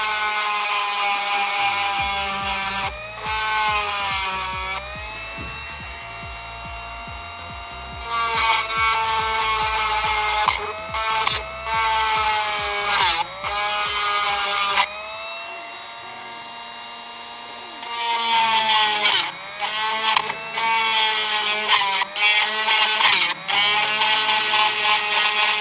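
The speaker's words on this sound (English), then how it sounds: "we've cut a slit across the bolt" A rotary cutting tool grinds a slit across a corroded Land Rover Freelander 2 rear shock bolt, a loud, high whine in repeated bursts with short pauses and shifting pitch as it bites the metal.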